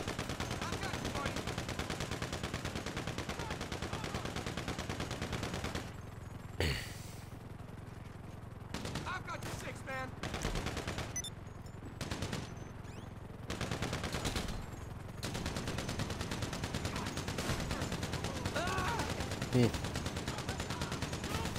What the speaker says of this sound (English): Stop shooting for a second.